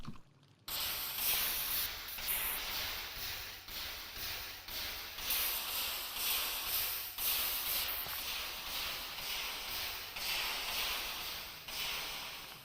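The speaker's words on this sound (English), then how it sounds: "Now we can also hear the sizzling." Molten metal being cooled in a Minecraft modpack gives a steady, loud hiss of sizzling that runs on without a break after a short quiet start.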